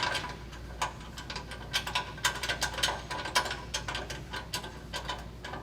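Close mechanical clicking and ratcheting, like a ratchet wrench bolting a carrier bearing to the subframe of a lowered Ford F-150, in irregular bursts over a low background hum, with no talking.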